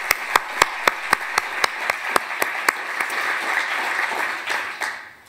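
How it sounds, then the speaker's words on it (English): Tourism conference audience gives a round of applause, opening with a few sharp, evenly spaced loud claps close by, then swelling into a dense crowd of clapping that fades away at the end. "A huge round of applause again for Terence Branigan"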